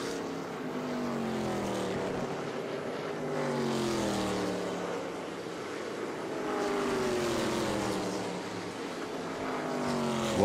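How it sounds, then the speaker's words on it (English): ARCA Menards Series West stock race cars roaring down the backstretch at Evergreen, several engine wails rising and falling in pitch as cars pass one after another, loud and steady with no talk. "You can really see the speed of these cars as they come at you down the backstretch"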